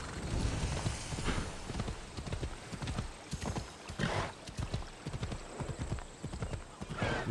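Hooves clip-clop steadily as a horse is ridden in the video game Assassin's Creed Odyssey, a continuous rhythmic pounding with a whinny, all layered over ambient game noise at moderate volume.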